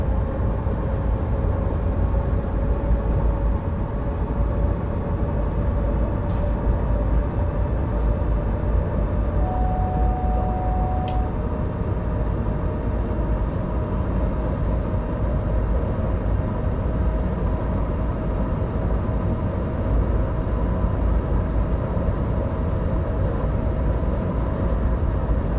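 Rolling rumble of an EC 87 passenger train picking up speed in Train Sim World 4 between Salzburg Hbf and Rosenheim Hbf, a steady dense low drone running the whole stretch with a brief whistle-like tone partway through, no talk.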